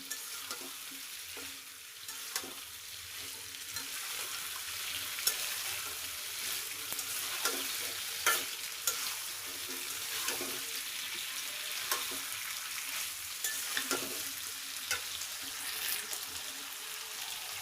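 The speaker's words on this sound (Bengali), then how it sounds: "এভাবেই আস্তে আস্তে করে সুন্দর করে কষিয়ে নেব, তারপর ঝোল দিয়ে দেব।" Pigeon meat curry sizzles and fries in a pan, a continuous close hiss broken by repeated scraping and clinking stirs of a spoon, with no talk over it.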